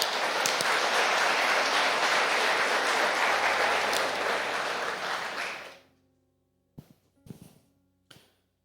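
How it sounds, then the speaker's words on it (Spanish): Applause in a church, a dense wash of clapping that fades out after about six seconds, followed by a few isolated knocks in near silence. "Den un fuerte aplauso al Señor."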